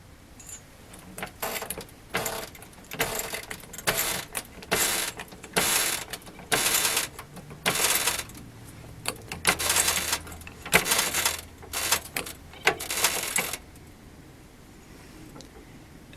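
A ratchet wrench clicks in rapid bursts while torquing sway bar bolts on a 2G DSM, repeated loud close ratcheting runs separated by short pauses, then falling quiet.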